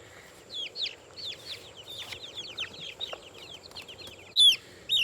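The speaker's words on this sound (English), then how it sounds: "Pretty birds though. This is that Plymouth Blue Rock." Plymouth Blue Rock chickens in a chicken tractor give a run of close clucks and chirpy calls that overlap and pulse unevenly, ending with a couple of louder, sharper calls.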